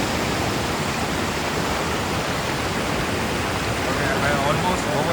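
A river stream rushes near a waterfall on a Himalayan mountain trek, a loud, steady broadband roar of flowing water that fills the whole stretch without pause.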